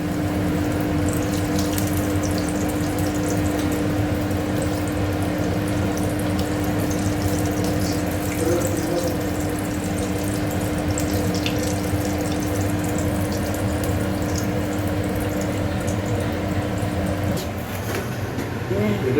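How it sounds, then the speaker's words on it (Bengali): Potato-filled kachoris frying in hot oil make a steady, loud sizzle that runs unbroken for the whole stretch, with a faint low hum beneath it. "আলুর দম কচুরিগুলো ভেজে নিচ্ছি"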